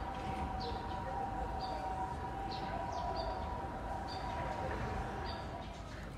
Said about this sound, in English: I don't know how to feel about the birds singing when I hear the ambulance sirens in the background.